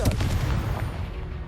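A Confringo fire spell blasts in Hogwarts Legacy, a short heavy booming burst that rolls off into a fading rumble.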